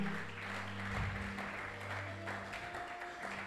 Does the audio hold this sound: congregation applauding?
yes